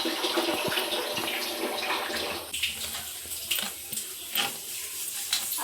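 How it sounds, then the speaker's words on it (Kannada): Dishes are washed under a running tap: a steady rush of water with soft clinks and knocks of pots and plates, close and continuous. "ಇಲ್ಲಿ ನಮ್ಮ ಮಮ್ಮಿ ಪಾತ್ರೆ ಬೆಳಗ್ತವ್ರೆ"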